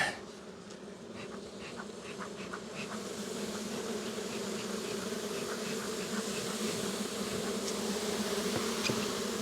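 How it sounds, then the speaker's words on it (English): Dense, steady buzzing of many honey bees in a hive box fills the air continuously, close and even in volume throughout. "There's a lot of bees in this box."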